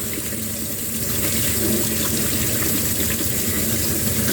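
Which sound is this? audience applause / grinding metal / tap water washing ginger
tap water washing ginger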